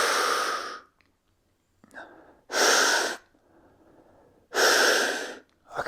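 A person takes deep, forceful breaths during a counter-rotating fascial stretch, three long loud airy exhalations separated by pauses with softer intake sounds between, very close to the mic.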